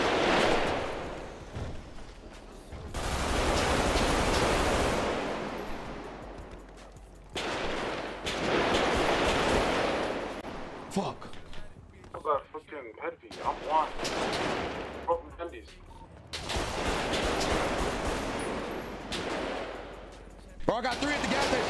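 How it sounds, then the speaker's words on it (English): Repeated bursts of gunfire in a video game, loud rattling volleys aimed at the player that come in several long stretches with short gaps between them. "Oh, I'm getting shot."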